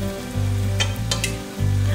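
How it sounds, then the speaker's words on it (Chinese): Sliced pork loin laid out in a flat frying pan sizzles loudly and steadily, with a few sharper crackling bursts near the middle. "将刚才切成片的猪里脊肉在平底锅里面排开。"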